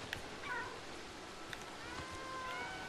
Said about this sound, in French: On a une armée de chats et c'est trop cool l'armée de chats par contre.